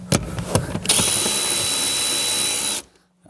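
A power drill drives a bolt into a subwoofer bracket in a 2018-up Jeep Wrangler JL, starting with a few short trigger bursts before a sustained, rising whine that stops abruptly, close and loud.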